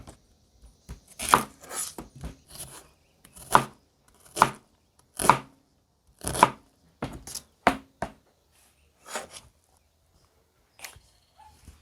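A knife dicing red onion on a cutting board while ceviche is prepared: a series of sharp, close chopping thuds in irregular bursts, loud and alone, with no talking.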